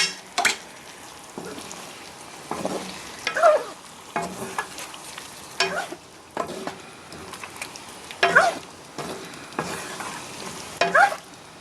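Repeated spoon strokes stir cornstarch into a sauce bubbling over high heat, with a steady sizzle beneath and sharp scrapes against the pan every second or so, close and fairly loud, no voices.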